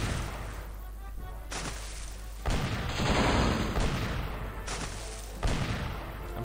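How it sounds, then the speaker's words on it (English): Rapid booming cannon fire in the video game The Curse of Monkey Island erupts in several bursts with brief quiet gaps between, heavy and fairly close, with game effects overlaid. "Oh, that's some cannon fire."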